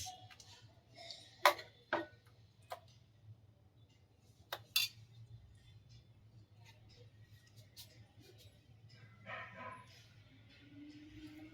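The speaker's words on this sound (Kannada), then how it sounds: "ಸರ್ವಿಂಗ್ ಬೌಲ್ಗೆ ಹಾಕೋತಾ ಇದ್ದೀನಿ ಫ್ರೆಂಡ್ಸ್." Carrot kheer is ladled into a serving bowl, giving a few sharp metallic clinks and scrapes of spoon against dish, faint and close in a quiet kitchen, with brief soft talk.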